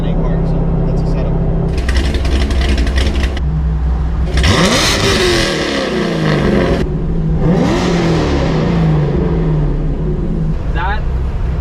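A modified 580 hp LS3-swapped C5 Corvette with a high-lift cam, naturally aspirated, revs loudly and up close, its engine rising in sharp surges and shrieking pitch sweeps over a steady throbbing idle.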